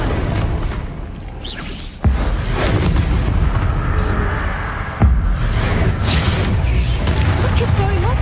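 A Bombarda blasting spell goes off in the Hogwarts Legacy video game, giving two sharp booming explosions amid loud, busy game sound and music, with a voice talking over parts of it.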